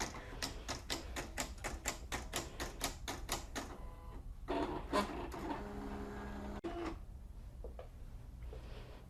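A Silhouette cutting machine cuts printed paper, with fast regular ticking bursts of the carriage and blade, then quieter whirring movements and pauses.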